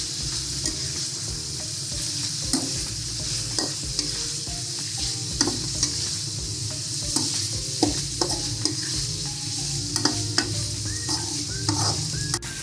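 Chicken liver and gizzard sambal sizzles steadily in a pan while being stirred, with repeated scraping clicks of the utensil against the pan sounding up close over the continuous frying hiss.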